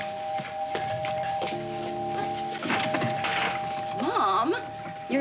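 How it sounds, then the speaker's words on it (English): Doorbell pressed repeatedly indoors, with a sustained electronic ring and chimes up close, plus a few thunks and voices speaking over it. "you're leaning on the doorbell"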